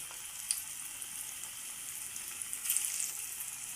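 Small broad bean seed vadas (chitti garelu) frying in hot oil: a steady bright sizzle runs throughout, with faint pops and light stirring noises, close and moderately loud, with no talking.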